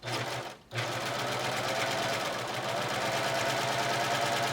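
A sewing machine stitching a woven placemat, a fast steady rattling hum after a brief pause, close and continuous.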